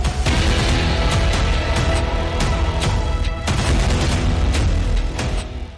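Dense, continuous rumbling blasts with repeated sharp cracks, loud and close, from rocket explosions in southern Lebanon; no voices.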